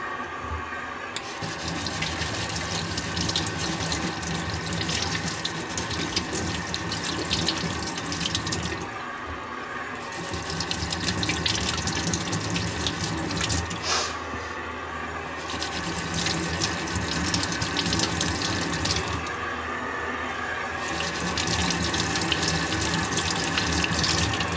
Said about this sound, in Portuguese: primeiro a gente vai lavar tudo na água corrente